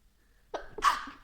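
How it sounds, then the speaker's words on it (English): A single close sneeze from a person indoors, a quick inhaled catch followed by a sharp, breathy burst, alone in a quiet room. "I had to sneeze really bad."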